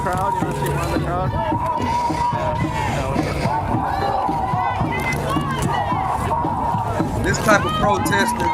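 A protest crowd at an ICE protest in America shouts and chants together, a loud, dense wall of many voices that holds steady for the whole stretch.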